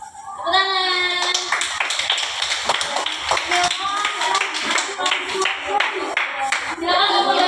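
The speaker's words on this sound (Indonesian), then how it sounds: "Tepuk tangan." Children in a classroom clap their hands in a quick, uneven burst, with lively young voices and chatter running over and around the taps.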